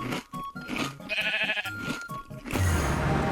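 Sheep bleat in the Minecraft video game: several wavering bleats, close and clear, over a dense layer of game sound and music.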